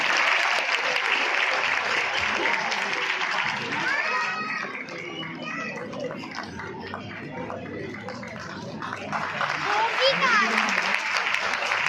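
Audience clapping at a school annual day prize-giving, sustained and fairly loud, with children's shouts and chatter mixed in and an announcer's voice over the crowd.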